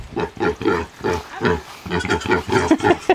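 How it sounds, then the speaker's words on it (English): A farm pig oinks and squeals loudly and close up in a run of rapid, repeated grunting bursts with short gaps between them. "The pig wants in."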